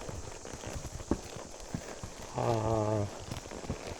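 Horse hooves clip-clop in an irregular walking rhythm, close by, with a short tonal horse-like call partway through, at Wild Cat Den.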